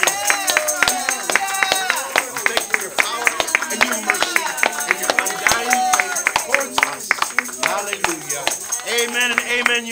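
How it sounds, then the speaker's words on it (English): Church congregation clapping, sharp irregular claps from nearby hands mixed with loud voices and cries of praise carrying over the top the whole time. "Let's give the Lord a clap offering."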